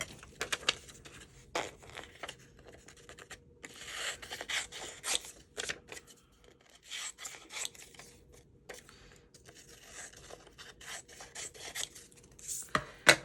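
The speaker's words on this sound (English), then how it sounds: "Okay, so I need to cut that out a little closer." Scissors cutting out a cardboard piece for a junk journal made from a spaghetti box, close rasping snips and rubbing scrapes in uneven bursts with short pauses between, no voices.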